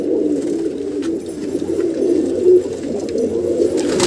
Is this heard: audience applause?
no